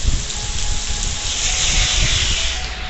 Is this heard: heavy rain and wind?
yes